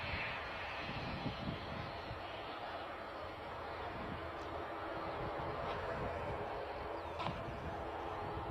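A departing aircraft at Bristol Airport roars steadily at a distance, a broad, sustained engine rumble with faint voices beneath it.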